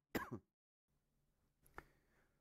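A short, sharp cough sounds twice up close, then a quieter throaty catch follows after a brief pause.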